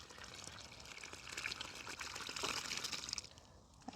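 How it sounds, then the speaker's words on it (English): Water being poured onto plants on an allotment, a steady splashing trickle that swells in the middle and drops away near the end, close by with no talking. "I'll give this a good watering first."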